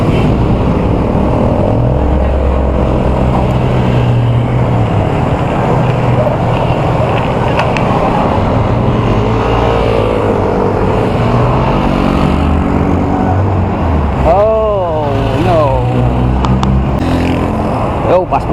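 Road traffic heard during a motorcycle ride toward Atimonan, a constant loud engine and wind roar with vehicles passing and a short wavering horn or siren-like tone near the end.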